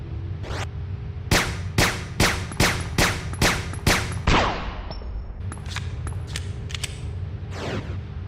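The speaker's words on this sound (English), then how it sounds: "let's test the silencer handgun out" Silencer handgun firing in Resident Evil: Dead Aim: about a dozen sharp, evenly spaced shots in a steady series, each with a short metallic ring, then a brief pause and a few more scattered shots over low game ambience.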